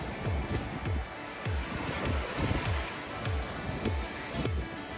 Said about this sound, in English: Check out that surf.